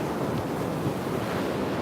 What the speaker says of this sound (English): I love the big rollers crashing on the shore. Sounds so nice.